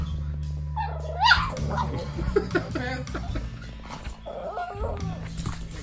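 Marv, a dog at a state park campsite, lets out high, wavering whimpers and whines near the start, with soft bursts afterward over a steady low hum.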